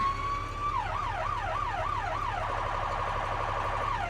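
A loud siren on a 2013 Med Tec Type I International ambulance sounds nearby: a steady tone, then a rapid rising-and-falling wail, shifting into a faster warble.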